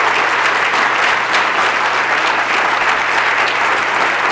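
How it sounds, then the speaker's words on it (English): Sustained applause from a seated audience for a speaker at a podium after a talk, dense and steady throughout with no voices. "I didn't actually come back to the podium for you to have to applaud"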